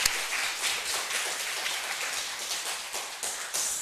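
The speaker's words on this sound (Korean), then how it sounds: "우리 같이 동행해 주시고 수고해 주신 우리 선생님들께 박수 한번" A church congregation at a Sunday service claps for its teachers. The clapping is a dense, even patter that holds steady throughout at moderate volume.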